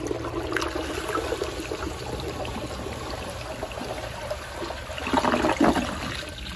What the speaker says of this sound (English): let's give you all a flush.